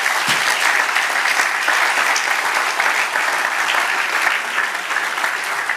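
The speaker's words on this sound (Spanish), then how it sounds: "Dale un aplauso al Señor." A church congregation applauds steadily during a Spanish-language sermon, a dense, sustained wash of many hands clapping at even loudness throughout with no pauses.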